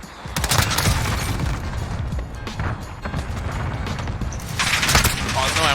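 A grenade blast and gunfire in a Call of Duty match on the Road to Damascus map, where a dense, loud burst of rapid shots and booms rolls on without a break, and a voice talks throughout.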